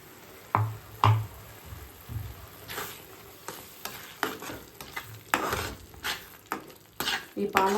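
A spoon stirs spinach and green chilli paste in a frying pan, making repeated scraping strokes and clinks against the metal over a steady sizzle.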